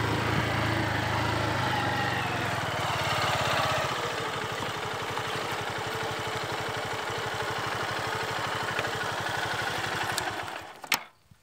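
A motorcycle engine idles steadily on a mountain trail up to the Mirante Vera Cruz lookout in Serra dos Cocais, Coronel Fabriciano, with a moderate mid-pitched chug that runs evenly for about ten seconds, then cuts off abruptly.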